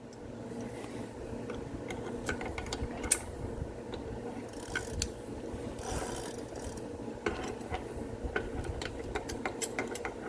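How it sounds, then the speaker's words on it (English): A big crescent wrench is turned to remove an e-bike crank arm, producing faint, close clicking and ratcheting with scattered metallic ticks over a steady low background. "to get the crank off, you gotta turn this"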